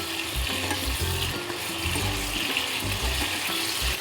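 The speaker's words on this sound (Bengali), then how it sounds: "কুমড়োগুলোকে একটু নাড়িয়ে দিয়ে আবার একটু ভেজে নেবো" Pumpkin pieces with salt and turmeric fry and get stirred in a pan for a potato-pumpkin chokka, giving a loud, continuous sizzle with repeated spatula scrapes and knocks close by.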